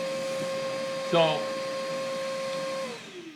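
A Milwaukee M18 FUEL 6-gallon cordless wet/dry shop vacuum runs on its low setting with a steady, moderate whine and hum close by. A voice speaks briefly over it, and the tone winds down near the end.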